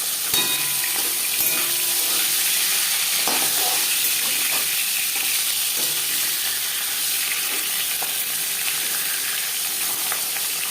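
Marinated fish sizzles in hot refined oil in a pan, a bright, steady crackling hiss with occasional sharper pops, close and continuous for about eleven seconds with no voices.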